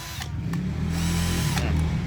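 A New bolic 59 V cordless drill runs steadily with a continuous motor whine and hum throughout, close by and loud, with no speech.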